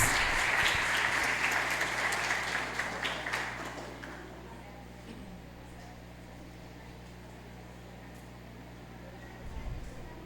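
A crowd applauding the music ministry at an Easter Mass, loud at first and gradually fading out over several seconds, leaving a quiet room hum.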